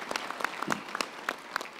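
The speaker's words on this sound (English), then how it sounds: "I want us to give special rounds of applause" A graduation ceremony audience gives a round of applause for professors, a fairly faint, steady patter of many hands with a few sharper claps standing out.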